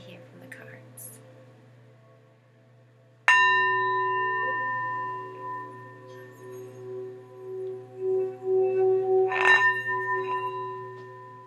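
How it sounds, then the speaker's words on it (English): A small bell rings once, clear and close, and its tone hangs and slowly decays over several seconds in a quiet room, with soft speech near the end. "as I get ready to ring my bell here"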